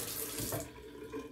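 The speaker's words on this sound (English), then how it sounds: "Let me fill up my mug with some fresh water." Tap water runs steadily into a shaving mug, a broad rushing splash with a brief louder gush partway through, close and alone with no talk.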